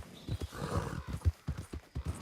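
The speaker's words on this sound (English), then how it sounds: "Let me get the horse, get back on the road" Hoofbeats of a horse galloping in the video game Red Dead Redemption 2, a steady rapid clip-clop rhythm of close, punchy strikes running throughout, with no talking.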